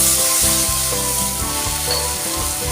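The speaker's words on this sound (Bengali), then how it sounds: "এরপর অল্প জল দেবো," A little water hits a hot pan of well-fried masala for a brinjal dish, giving a loud, dense sizzle that stays strong throughout the short clip.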